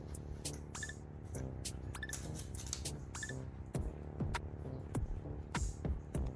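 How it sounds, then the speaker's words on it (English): Scissors snip through the roots of a strawberry plant during planting, giving a series of quiet, close crisp cuts with rustling of soil and leaves between them. "Cut those roots down a little bit."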